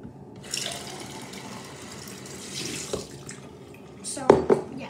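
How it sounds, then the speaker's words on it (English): Liquid poured into a sink and running down the drain, a running-water splash that swells and gurgles toward the end, with faint background voices. "I got this dissolving stuff, so I'm just gonna pour it down the drain"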